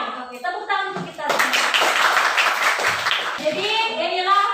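A classroom of children clapping together after a morning greeting, a sustained burst of loud applause lasting a few seconds, with children's voices chattering before and after.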